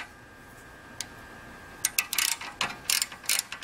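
A ratchet fitted with a 7mm Allen socket on a short extension loosens the sliding pins of a BMW brake caliper, giving a run of quick, close clicking bursts after a quiet start.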